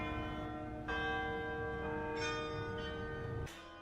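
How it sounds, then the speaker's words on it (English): Town church bells ring out in sustained, resonant tones that overlap one another, with new strikes coming about every second. They sound fairly distant and fade near the end, with no one talking. "you've heard them ringing"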